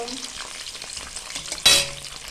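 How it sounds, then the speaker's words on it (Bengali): Pabda fish fry in hot oil over a low flame, giving a continuous close sizzle with a sharp, loud spurt of crackling partway through before settling back to a steady hiss. "মাছটা খুব সুন্দর আর একটা গরম তেলের আওয়াজ পাচ্ছে বন্ধুরা"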